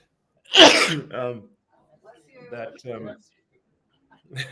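A single loud, sharp sneeze bursts out near the mic, followed by someone talking in a quiet indoor interview setting.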